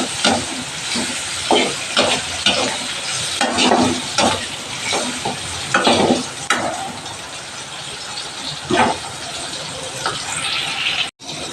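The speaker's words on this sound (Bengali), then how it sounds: "টমেটো পেঁয়াজটা দিয়ে দিয়েছি।" Tomato and onion frying in oil tempered with cumin seeds, a steady close sizzle and hiss broken by repeated scraping stirs of a spatula, with no talk over it.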